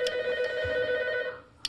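A telephone bell rings in one sustained trilling burst, clear and moderately loud, then cuts off into near silence.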